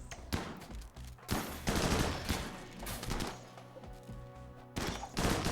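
Gunfire in the colony sim Rimworld, with mechanoid machines attacking. Several loud bursts of shooting are separated by short gaps, and dense rattling volleys run underneath.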